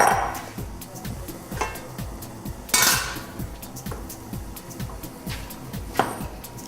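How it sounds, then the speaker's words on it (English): Pots of zucchini soup and peas handled with pot holders, a run of close metallic clanks and knocks of cookware against a stovetop, with a few louder bangs among the quieter rattles. "with my pot holders here, let's get our zucchini soup and our peas out"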